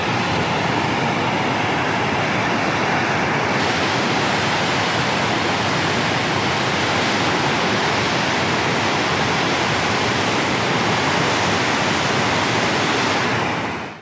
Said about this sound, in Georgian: საყვარელი ჩანჩქერი გვაქვს.